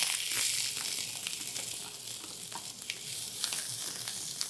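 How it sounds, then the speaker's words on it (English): Chopped peppers sizzle in a hot frying pan while cooking for a noodle dish, a steady close crackling hiss with occasional stirring scrapes and no talk. "Again, you can hear that sizzle."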